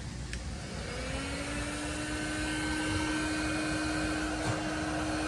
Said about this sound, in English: Now we're going to turn on this heat gun